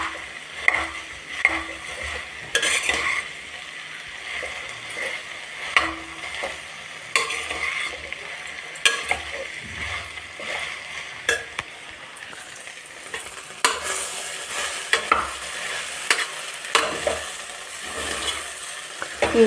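Sliced okra (bendekayi) for palya fries in a pan, with a soft steady sizzle and repeated scraping stirs of a spatula, close and clear, with no talking.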